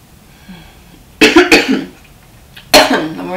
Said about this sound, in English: I'm already coughing, you guys.